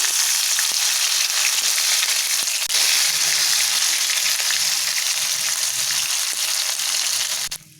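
Eggplant slices fry in hot oil over a low flame, giving a steady, close, hissing sizzle with faint crackles that cuts off abruptly at the end.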